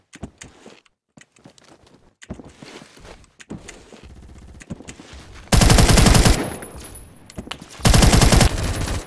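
A Type 20 fitted with a drum magazine fires in Phantom Forces: two loud, sustained automatic bursts stand out near and harsh after quieter handling and movement noises.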